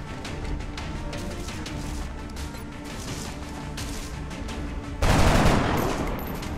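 Gunfire in the XCOM: Enemy Unknown video game comes as a rapid rattling burst of shots, followed by a louder crashing blast near the end, with no talking.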